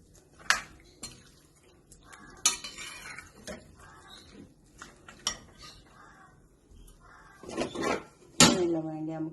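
Chicken being stirred in a pan, a close mix of metal utensil scrapes and clinks against the cookware with soft sizzling underneath, irregular strokes building to louder clattering near the end.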